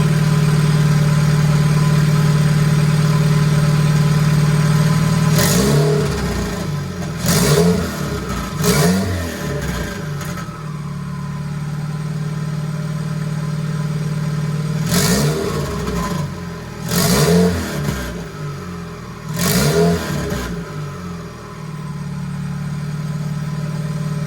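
Honda K24 engine swapped into a Porsche 911, built for up to 900 hp, idles steadily while warming up, with several sharp throttle blips rising and falling between stretches of a loud, even idle.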